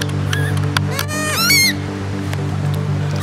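Several waterfowl honk loudly nearby in a desert setting, a short burst of overlapping rising calls over a steady low hum.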